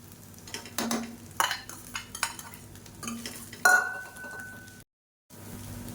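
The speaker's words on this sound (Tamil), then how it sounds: "முட்டையை சேர்த்துட்டு நல்லா சாஃப்டாக பரட்டி விட்டுக்கலாம்" Chopped boiled egg is stirred into egg fried rice in a pan, with a spoon scraping and clinking against the metal in a series of uneven strokes over a faint sizzle, close by and with no talk, before a brief silent gap.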